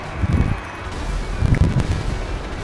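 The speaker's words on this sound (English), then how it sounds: "I hear some explosions" Explosions in the video game GTA Online, heavy low booms and rumbling blasts in two clusters over a constant background of wind-like noise.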